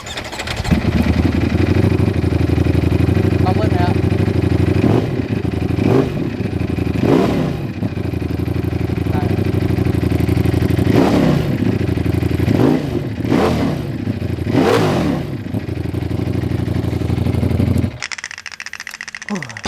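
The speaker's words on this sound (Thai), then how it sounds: "ตาม FC เรียกร้องเสียงท่อเอาเลยครับ ดังนิดนึงฮะ" A Ducati Panigale V4S superbike idles rumbling, then revs sharply several times with rising exhaust roars, close and loud, with people talking over it.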